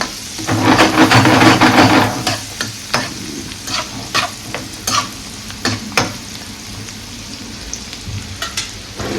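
Onion frying in a pan with loud, steady sizzling at first, then settling into quieter sizzle broken by repeated sharp scrapes and knocks of a spoon stirring against the pan.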